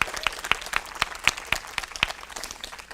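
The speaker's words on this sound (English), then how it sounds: "So let's give all of our central services staff a round of applause." A press-conference audience applauding school central services staff, with scattered sharp claps at a fairly sparse, uneven rhythm for a few seconds.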